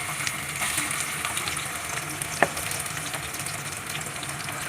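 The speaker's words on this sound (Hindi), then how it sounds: "और इसको हम फ्राई करेंगे गोल्डन फ्राई होने तक।" Two onions fry in hot oil in a wok, a steady close crackling sizzle throughout with one brief clink of a utensil.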